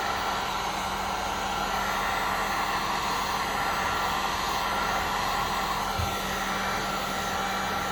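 Steady, loud hiss of a heat gun blowing hot air over freshly poured resin coasters, a continuous broadband rush with no breaks and no voices.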